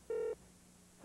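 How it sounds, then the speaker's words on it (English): A telephone rings in an AT&T television commercial from 1993, one short, steady electronic tone burst that is fairly loud and close, followed by quiet low hum and a brief low thud at the very end. "Ed, telephone!"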